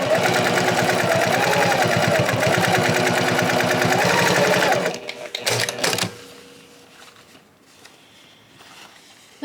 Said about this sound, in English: so I'm just going to sew it.